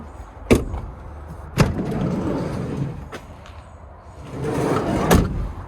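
The door of a white 2018 Mercedes-Benz work van, heavily worn, is worked at an auction lot: several sharp thuds and slams are heard, spaced seconds apart, with rattling and sliding movement between them.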